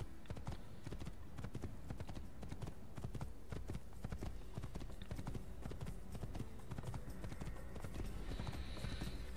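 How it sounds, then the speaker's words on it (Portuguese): Horse hooves clip-clop steadily in Assassin's Creed gameplay, a brisk, continuous rhythmic clatter of a ridden horse heard close and fairly quiet. "Vamos pegar aqui o cavalinho, ele está sempre à nossa espera."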